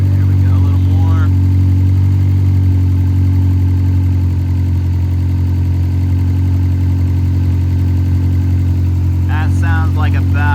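A Honda K24 engine idles steadily near 1,000 rpm with a loud, even low hum throughout, while someone talks briefly at the start and near the end.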